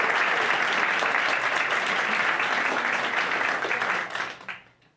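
An audience at the Arizona Spotlight Class of 2024 storytelling event applauds a young woman with steady, dense clapping that holds for about four seconds and then fades out quickly.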